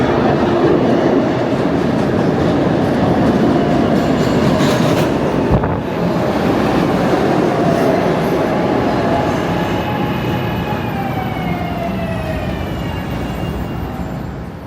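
A train rolls past close by with a loud, continuous rumble of wheels on rails, a sharp clank partway through and a thin rising squeal as it fades slightly toward the end.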